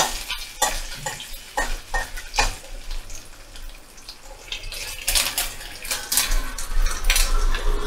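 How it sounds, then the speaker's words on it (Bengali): Finely chopped coconut frying in hot oil, a loud, crackling sizzle with repeated scraping strokes of a spatula that grows busier toward the end, close and without speech. "নারকেলটা ভাজা করে নেব।"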